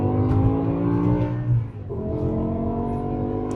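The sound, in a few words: car engine accelerating, dual-clutch transmission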